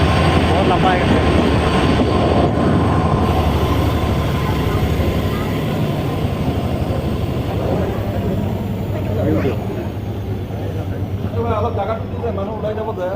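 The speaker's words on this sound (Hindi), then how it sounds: "बहुत लंबा है ट्रेन।" A long train rolls past in Assam with a steady, loud rumble and rhythmic clatter of wheels that carries on throughout and eases slightly toward the end. Voices talk over the noise.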